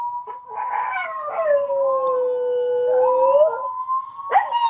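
Several dogs howl together close by, long wavering tones rising and falling over a few seconds with yips breaking in, and no talking.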